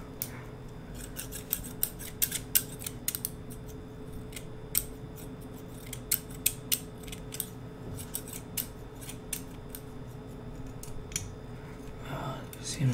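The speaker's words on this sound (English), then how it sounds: "Seems like my scissors are a little bit jammed, so that's a nice little snipping sound." Small, slightly jammed scissors snip again and again close to the mic while a beard is trimmed, making crisp irregular clicks over a quiet hiss in an ASMR setting.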